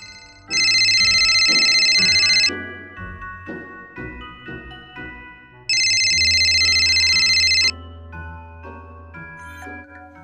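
A electronic phone ringtone plays in two loud, sustained bursts of bright tinkling tones, separated by a pause, over a quieter musical background during a school assembly.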